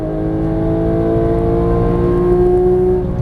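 Porsche GT3 engine pulling hard under throttle on a racing circuit, a loud, steady, close drone heard from inside the car with a slowly rising pitch and no talk over it.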